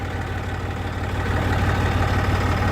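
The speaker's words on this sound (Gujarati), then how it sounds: "તો ચાલો ટ્રેક્ટર મૂકતા આવીએ" A tractor engine idles steadily nearby, a low, even rumble that gets slightly louder partway through and never stops.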